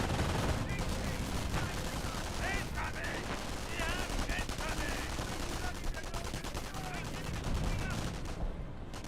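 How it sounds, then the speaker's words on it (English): Heavy explosive barrage and gunfire in Company of Heroes, dense overlapping blasts and rattling shots filling the whole stretch at steady loudness, with faint game voices mixed underneath. "That sounds like another actual barrage."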